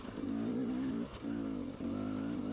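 Off-road motorcycle engine held at open throttle while climbing flat-faced rock on a lap of the Wolwekloof TT course, a loud steady drone broken by two brief dips in revs.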